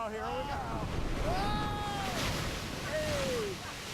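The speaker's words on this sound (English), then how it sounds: "with the breaking waves approaching" Breaking ocean waves wash against a floating pontoon amid wind buffeting the microphone, a continuous surging rush with voices calling out over it.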